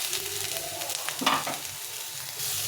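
Chopped tomato with salt and spices fries in a pan, giving a soft continuous sizzle broken by a brief louder stir near the middle before settling into a quiet hiss.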